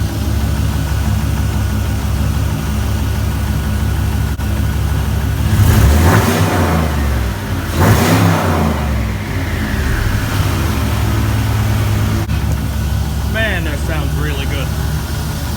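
A turbocharged LS 5.3 V8 engine idles, then revs sharply twice in quick bursts with turbo whine, loud and close, settling back to a steady idle with a voice briefly heard.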